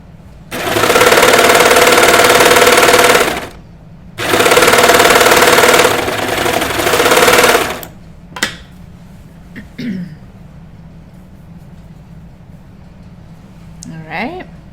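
A serger runs along the side seam of a knit T-shirt in two long, loud bursts of steady, high-speed humming. Afterwards the room goes quieter, with a few brief handling noises and a voice speaking.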